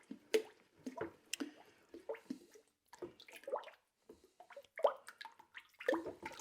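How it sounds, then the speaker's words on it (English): A pottery glaze mixture being stirred after colorant is added, giving wet, squishy slops and drips in irregular close strokes, fairly soft, with no talk. "Then we're going to stir it and see how it changes."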